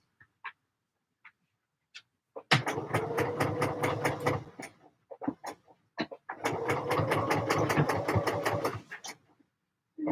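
An overlocker runs in two fast, rattling bursts as it sews T-shirt fabric, one roughly two seconds long and one about three, separated and bracketed by scattered single clicks and quiet handling.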